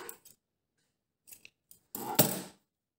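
Scissors cutting a fabric cord in half, a few faint snips followed by one louder, sharper crunching cut near the end, close up with quiet gaps between.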